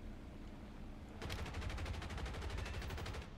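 Rapid bursts of gunfire from a P-47 D or P-63 C-5 fighter in an aircraft combat game, starting abruptly and rattling on steadily as a dense, loud volley over engine drone.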